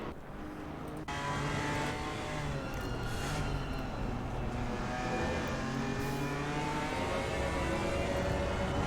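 GT4 race cars at the Nurburgring roar past at speed in a winter championship race, engines droning and revving in layered, overlapping tones that hold loud and steady for several seconds.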